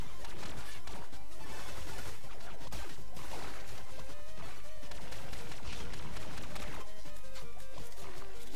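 In Relic Hunters Zero, a grenade blast lands amid a loud, saturated wall of game combat noise, with crashes and shots piling up continuously and no speech.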